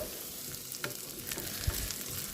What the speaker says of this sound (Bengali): আলুটাকে দিয়ে এবারে খানিকটা সময় ভাজবো